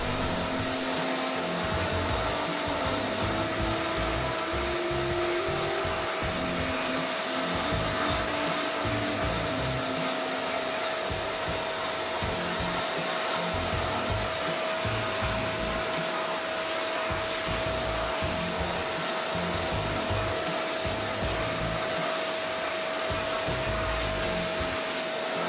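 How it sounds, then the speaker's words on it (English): A leaf blower blows dust out from the inside of a computer, a steady loud whooshing roar with a constant whine running unbroken throughout, no talking over it. "you can use your leaf blower to blow it out from the inside"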